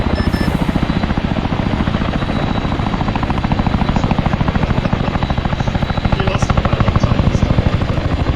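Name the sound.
helicopter landing on helipad in video game ArmA 3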